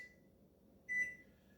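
A microwave oven set on a 30-minute timer gives a single short electronic beep over a faint low running hum, quiet and close.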